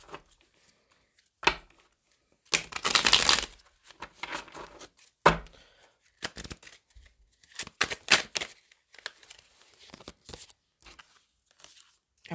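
Tarot cards being shuffled by hand in bursts of papery riffling and flicking, with a long dense riffle near the start and shorter snaps and slides after, close and fairly quiet with no talking.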